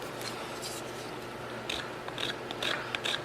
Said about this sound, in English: just clipping these heels off, make sure it's pointing down